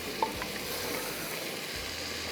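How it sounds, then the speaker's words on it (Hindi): Masala browning in a pan for a mixed sabzi saag, a steady low sizzle with faint stirring scrapes, close and continuous with no talking. "ये मेरे अब भुनाई अच्छे से हो गई है, खुशबू आने शुरू होगी।"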